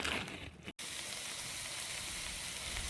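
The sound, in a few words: onions frying in a pan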